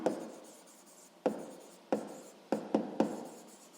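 A pen or pencil writes a math solution on paper, making close, scratchy strokes that start with sharp onsets and fade, about six strokes spaced unevenly, with no talking.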